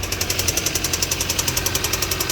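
A faulty Audi engine idles with a regular ticking knock from a worn tensioner pulley, a fast, even clatter repeating steadily over the engine drone, close and fairly loud.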